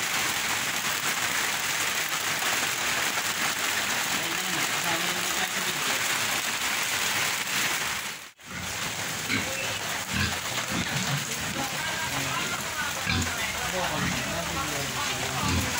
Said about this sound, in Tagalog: naabot tayo ng ulan dito